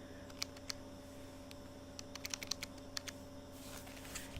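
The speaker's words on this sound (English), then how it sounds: "When you get your activation code via your email, you type it in right here." Faint, quick keystrokes on a computer keyboard as an activation code is typed, a few scattered taps then a short burst of clicks over a steady low electrical hum.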